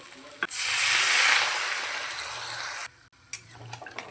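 Water pours into a pot of fried potatoes and Katla fish head for a curry, a loud rushing gush that fades away, followed by a few light clinks and stirring sounds.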